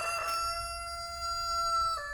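Roosters crowing, a long harmonic crow held for about two seconds with another rooster overlapping at the start, fairly clear over a low background rumble, no talk.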